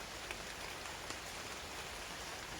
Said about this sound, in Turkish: akşamları her gün böyle güzel yağmur yağıyor